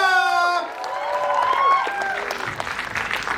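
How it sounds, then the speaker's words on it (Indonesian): Loud applause from a crowd at a film press conference in Indonesia, with whoops and cheering voices rising over the clapping at first, then a steady wash of clapping. "Tepuk tangan untuk Bayuska."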